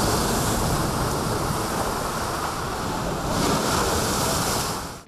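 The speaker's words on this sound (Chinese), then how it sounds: "再有涌浪拍上岸" Heavy surf crashes continuously onto the Lei Yue Mun shoreline in Hong Kong during a storm surge, a loud, unbroken roar of breaking waves mixed with strong wind buffeting the microphone, with no voices.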